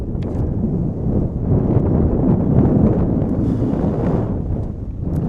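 Steady wind buffets the microphone at an outdoor boys' lacrosse game throughout, a continuous low rumbling roar with gusty swells and no clear voices.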